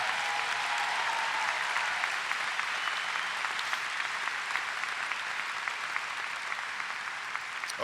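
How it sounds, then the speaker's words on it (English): A university commencement crowd gives sustained applause for the armed forces, a dense, steady wash of clapping throughout with no talk over it. "Let's have a round of applause for them as well"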